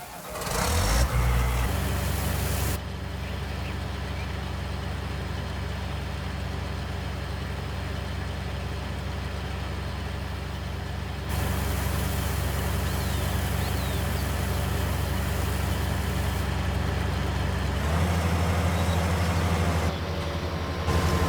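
A JCB tractor in Farming Simulator 19 runs at a steady, loud engine drone with a constant low hum, shifting level slightly twice as the load or revs change, heard alone with no talk.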